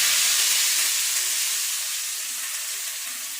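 Hot tadka tempering sizzles as it is poured into kadhi, a loud broad frying hiss that starts strong and slowly eases, alone without any talk.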